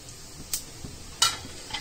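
Cumin, four red chilies and bay leaf sizzling in about a cup of hot oil for white mashkalai dal khichuri, a soft steady hiss broken by a few sharp spattering pops and faint pan knocks.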